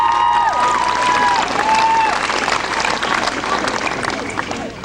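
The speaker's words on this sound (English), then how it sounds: "that deserves a great round of applause" Class of 1999 audience at a junior/senior high school graduation ceremony breaks into loud applause, dense clapping with some cheering and faint voices, tapering slightly toward the end.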